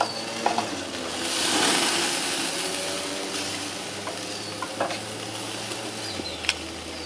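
Flank steak sizzling and flaring up on a grill with peppers and a piece of wood nearby, a steady close hiss and crackle with a brief rise in flaming rush and occasional sharp pops.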